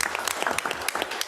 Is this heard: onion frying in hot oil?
no